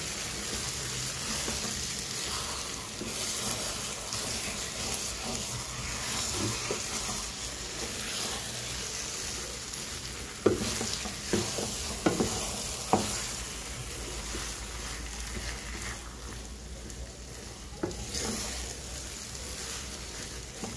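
Glutinous rice and coconut biko stirred in a pan, a steady close sizzling hiss with scattered scraping knocks from the spoon, heard alone with no voices.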